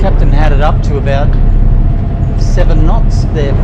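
A ferry engine roars steadily in the background throughout, loud and continuous, while someone talks over it.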